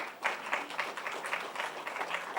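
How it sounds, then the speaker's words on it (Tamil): An audience at a transgender achievement award ceremony in Chennai claps steadily, a dense, sustained ripple of applause with no voices above it. "நல்லாவே கைத்தட்டலாமே"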